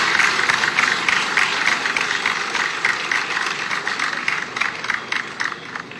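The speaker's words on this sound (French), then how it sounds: "Nous avons un applaudissement pour nous policiers." Applause for police officers at a graduation ceremony: a dense, steady crowd clapping that holds at an even level for the whole stretch, with no pauses.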